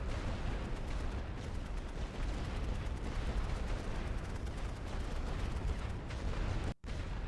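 Artillery shells pound a flank in the World War I strategy game The Great War: Western Front, a loud, relentless barrage of overlapping blasts and rumbling detonations that continues for about seven seconds with one brief dropout near the end.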